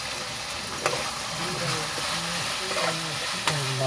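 Turmeric and chili powder stirred into hot oil for salted hilsa curry, a spoon scraping the pan in steady strokes over a continuous close sizzle, with no voices.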